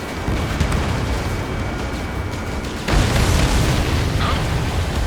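Explosion of an enemy transport in the video game Ace Combat 7: a steady, loud broadband roar of game noise that jumps into a heavier, fuller blast near the three-second mark and keeps rumbling to the end.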